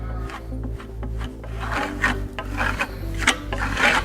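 A trowel applies and burnishes Grassello plaster on a wall, scraping and rubbing in close strokes over a low steady hum, growing rougher and more frequent toward the end.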